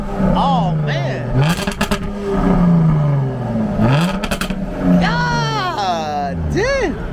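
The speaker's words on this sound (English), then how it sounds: "you wanna do a couple of exhaust revs?" BMW M6 exhaust being revved in short bursts, loud and close, with rising and falling engine roar under talk.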